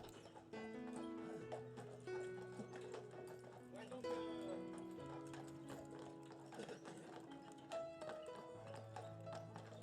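Horse hooves clip-clopping as a tourist horse-drawn carriage moves along, steady rhythmic clopping beneath continuous music with tonal notes, with speech present as well.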